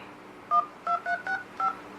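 Five crisp dual-tone beeps from the dial pad of a TCL idol X+ S960 smartphone, evenly spaced and close, played through its bottom speaker over quiet room noise.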